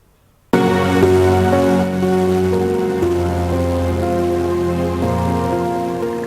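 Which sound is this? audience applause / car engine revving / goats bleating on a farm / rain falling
rain falling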